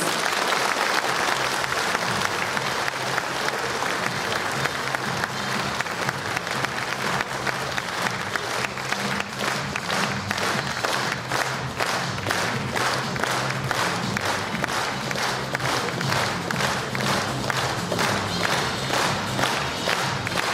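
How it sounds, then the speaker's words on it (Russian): Audience applause fills a concert hall at a 75th-anniversary concert honouring a vocal teacher, steady dense clapping from a large crowd sustained throughout, loud and continuous with a few shouts mixed in. "Вячеслав Байдаевич, эти аплодисменты сегодня только для вас."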